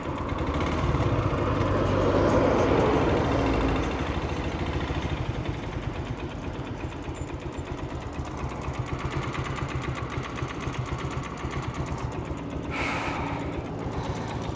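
An old Pulsar motorcycle in Nepal, breaking down, runs in gear with its engine making a loud, steady, close mechanical drone. The drone swells slightly at first, then holds an even rattling hum throughout.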